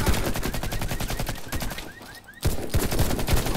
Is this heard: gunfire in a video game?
yes